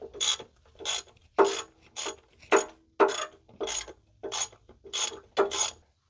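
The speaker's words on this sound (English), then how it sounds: "what I'm doing now is the oil pan bolts in the front. That's a 13mm socket." A ratchet with a 13mm socket works oil pan bolts loose on a 1997 Jeep Grand Cherokee 5.2L V8, giving about ten regular bursts of rasping clicks roughly every half second, close and steady.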